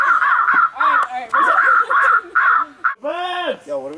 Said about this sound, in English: Yo, what are we gonna do about these damn birds?